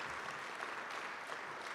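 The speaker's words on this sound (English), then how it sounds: "Let's give Chief Rubin and his command staff a round of applause" Audience applause for a fire chief and his command staff at a state of the government address, a faint, steady wash of clapping heard from a distance for under two seconds.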